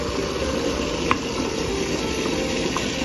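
Chicken dal simmering covered over a low flame, a steady soft bubbling hiss with an occasional faint pop.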